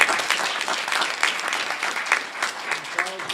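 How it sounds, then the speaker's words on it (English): People at a Board of Education meeting give a round of applause, an even, moderately loud burst of many hands clapping, with a voice briefly heard over it toward the end. "We'll clap for Irene."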